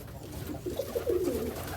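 Soft, low cooing of roller pigeons in an open loft repeats a few times in the background over a quiet, steady ambient hum.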